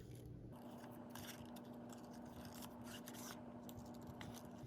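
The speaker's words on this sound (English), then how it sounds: "I'm just going to try and cut that dark background off." Scissors snipping through paper to trim off a dark background, a series of faint, crisp cuts over a steady low hum.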